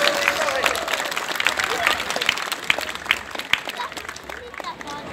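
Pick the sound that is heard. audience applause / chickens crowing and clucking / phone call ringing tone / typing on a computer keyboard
audience applause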